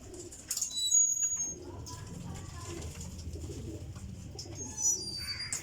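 A keeper handles and displays a female Pipla champion pigeon, with soft cooing and a burst of wing flutter near the start, while someone talks over it close by.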